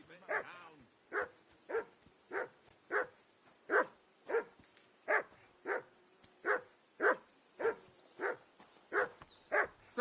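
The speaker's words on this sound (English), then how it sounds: "That barking was a pain in the ass." A dog barks over and over in Kingdom Come: Deliverance 2, about fourteen sharp, evenly spaced barks across ten seconds, close and fairly loud, with a faint low background beneath.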